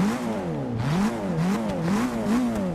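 Ford GT engine in the video game Forza Motorsport 6, revving loud and close in a continuous droning tone whose pitch rises and falls in repeated sweeps.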